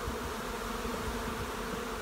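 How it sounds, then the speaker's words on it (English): Honey bees swarming around hives during a late-summer canola nectar flow, a dense, steady buzz from many insects close by, continuous and fairly quiet with no voices. "And look at the bees."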